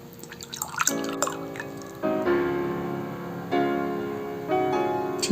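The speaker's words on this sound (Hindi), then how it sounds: "ये पानी को आधा मैं पोर कर दूंगी।" Water poured by hand into a glass in a few short bursts, with tonal filling and dripping sounds that rise as the glass takes on water, up close with no talking.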